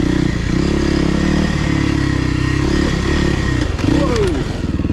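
A 2024 Kawasaki KLX300R dirt bike's single-cylinder engine runs loud and close on a wooded singletrack trail, holding a steady buzzing drone, then rising in pitch with a quick rev near the end.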